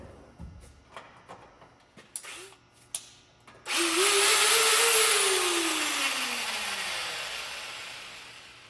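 A repaired Dewalt DWE4120 angle grinder is plugged in after a few handling clicks and knocks, then spins up with a loud rising whine that holds and slowly winds down as it coasts.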